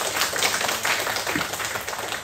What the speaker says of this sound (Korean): 건강하시도록 하나님이 복 주시기를 박수로 한번 격려하겠습니다.